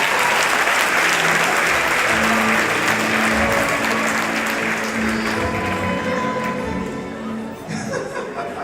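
A comedy show audience applauds and cheers, with steady, loud clapping, some laughter and whoops, and a host talking over it near the end.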